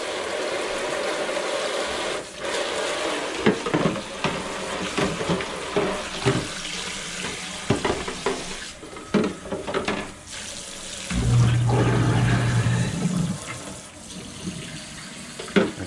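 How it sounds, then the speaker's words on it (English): Warm water runs into a container for washing a painted RC car body, a splashing tap-like stream broken by clunks and handling knocks, with a fuller steady gush near the end; no talking. "So we're going to put some warm water into this."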